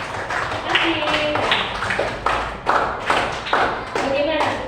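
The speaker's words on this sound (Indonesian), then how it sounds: "tepuk tangan buat dua teman yang mau pelajaran kami" Classroom applause for two students, a short burst of clapping from a group of children with irregular loud claps, close by, with children's voices chattering underneath.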